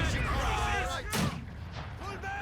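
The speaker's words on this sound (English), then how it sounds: "Got a mortar out now." A mortar fires in the Company of Heroes 2 video game, a muffled boom under busy battle sounds, with a fainter second report shortly after.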